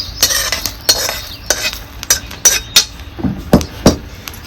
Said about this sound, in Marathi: आता ही डायरेक्ट मी हे खलबत्त्यातच ओतून घेते